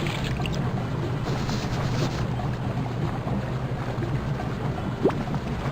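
Soft, steady ocean-surf wash like a held seashell from a pool of white water in Spy Fox in Dry Cereal, a constant airy rush with one brief swell near the end.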